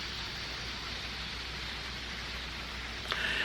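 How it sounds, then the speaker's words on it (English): Soft summer rain falls as an even, gentle hiss with no distinct drops standing out, steady and fairly faint, followed by a brief rustle at the very end. "It's a nice, soft summer rain."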